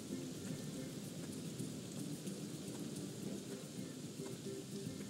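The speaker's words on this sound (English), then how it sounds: "Now it's raining." Rain and thunder in the video game Anno 1800: a constant rush of rainfall with low rumbling thunder rolling underneath, quiet and steady throughout.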